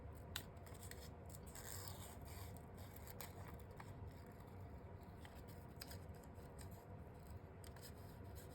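Scissors snipping around a paper stamped image, soft close rustle and cutting with a steady low background hum, no talk.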